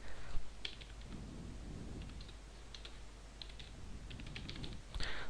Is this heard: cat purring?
no